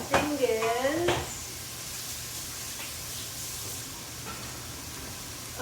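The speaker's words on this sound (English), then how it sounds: "So you can hear the pan sizzling away." Steady hiss of onions, beans and garlic frying in a hot pan, preceded by a brief clatter at the start, then continuous even sizzling.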